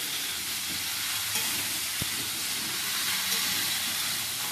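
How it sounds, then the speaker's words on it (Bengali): Cauliflower and potatoes fry with salt in a pan while being stirred, giving a steady, close sizzle and hiss with a faint scrape of stirring and no voices. "নুন দিয়ে আবারও আমি ভালো করে নেড়ে নিচ্ছি।"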